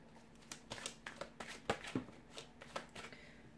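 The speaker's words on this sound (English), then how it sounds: "so we'll give the cards a shuffle" Soft, quick riffling and slapping of a deck of tarot cards being shuffled, a rapid series of light flicks close by.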